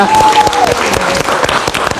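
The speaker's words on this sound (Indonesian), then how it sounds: "Kita kasih tepuk tangan dong untuk Arya." Live talk-show studio audience applauds the producer of a film, loud, close clapping with sharp individual hand hits over a crowd roar, while a host's voice and a brief sliding tone sound at the start.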